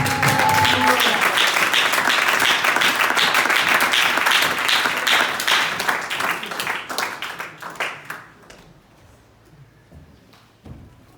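Audience applause after a church sermon, loud sustained clapping that thins into scattered claps and fades near the end.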